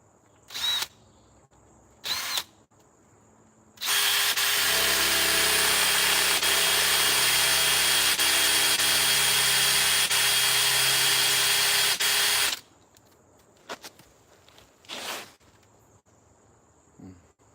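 A power drill whines loudly and steadily for several seconds as a 3/4-inch paddle bit bores through a chainsaw-carved wooden bear, framed by brief bursts of drilling before and after.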